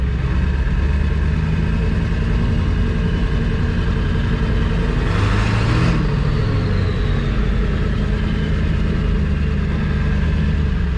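A 2000 Ford F-550 pickup with the 7.3 Powerstroke diesel runs at low RPM with a steady, loud, continuous rumble that stays even throughout, with no talk over it.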